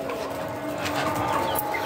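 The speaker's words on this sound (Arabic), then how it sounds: "وادي الطيور بتاعتنا ما شاء الله، هم بس خافوا بعدوا بعيد" Domestic chickens and other pet fowl cluck and coo softly at a distance in a backyard bird pen, under steady background hum.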